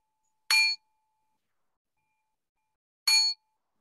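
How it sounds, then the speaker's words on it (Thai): Two clear, bright bell dings about two and a half seconds apart, each ringing briefly against silence. "เสียงระฆังดังนะครับ"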